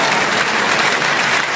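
A church congregation breaks into dense, loud applause during a sermon, a continuous roar of many hands clapping with no voices standing out.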